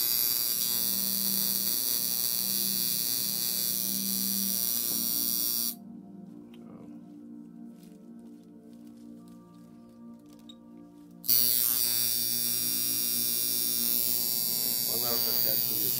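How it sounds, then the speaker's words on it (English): A traditional coil tattoo machine buzzes with a steady electric drone, cuts out to near silence for several seconds midway, then starts buzzing loudly again. "One of the tattoo machines I use."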